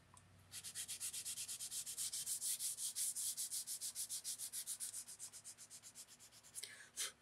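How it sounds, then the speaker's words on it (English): Sandpaper rubs old finish off the wooden stock of a Winchester Model 71 rifle in quick, even back-and-forth strokes, a close, crisp, rhythmic rasp repeating about four times a second before stopping near the end. "You get little pieces of it starting to fill up your sandpaper, it's because you still have some finish on the surface that you have to get through."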